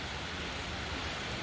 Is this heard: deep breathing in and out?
no